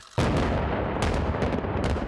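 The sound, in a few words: explosives demolishing nuclear test site tunnels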